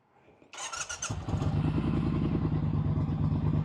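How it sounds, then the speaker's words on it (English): A motorcycle starts up: a brief whirring crank and a few rough catches, then the engine fires and settles into a loud, steady idle with a throbbing low rumble, close by. "I'm gonna go ahead and try to start it up for you"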